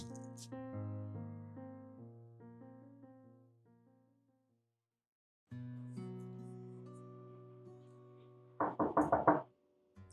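Knocking on a door in a home, a burst of several quick raps near the end, following a stretch of soft music.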